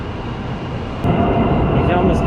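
A pointed-nose high-speed train pulls into a station platform in China, its broad rumble and rushing roar swelling partway through and staying loud and near, with faint voices mixed in.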